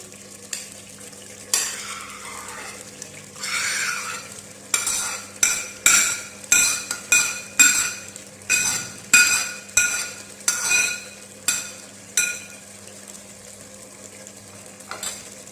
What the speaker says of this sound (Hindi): अच्छी तरह मिक्स कर लेंगे। भिंडियाँ इसमें अच्छी तरह मिक्स हो जाएंगी।